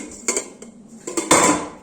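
Metal pots and pans, including a pressure cooker, clatter and clank in a few separate bursts while being taken from kitchen cupboards, with a louder jangle near the end, close by and without talk.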